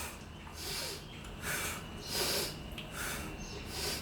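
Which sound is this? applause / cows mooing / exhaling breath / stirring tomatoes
exhaling breath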